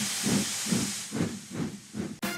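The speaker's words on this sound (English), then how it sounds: "Thomas was able to get it back with a big puff of steam." A cartoon steam locomotive, Thomas the Tank Engine, releases a steady loud hiss of steam with rhythmic chuffing pulses, ending in a sharp final burst.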